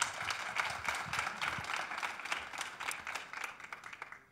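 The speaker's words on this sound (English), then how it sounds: "And give an applause to Christine." A conference audience claps for speaker Christine Doig, a dense patter of many hands at moderate distance that thins out toward the end.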